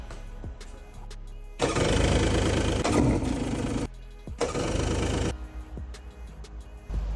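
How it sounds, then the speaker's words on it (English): A 1999 Yamaha jet boat engine with freshly cleaned carburetors cranks over in two loud, sustained churning bursts, roughly two seconds and one second long, separated by a short pause, with quieter mechanical clatter before and after. "Now we're gonna see if we can get one of the engines to turn over."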